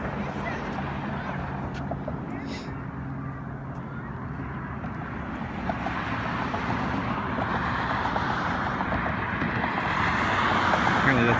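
Steady traffic in downtown Fort Smith, Arkansas, a continuous broadband roar of passing cars that grows louder toward the end, with a person speaking over it.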